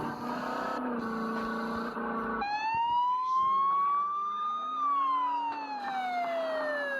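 Ambulance siren in a video game, a loud continuous wail with one clear rising and falling tone, shifting pitch partway through and sounding close throughout.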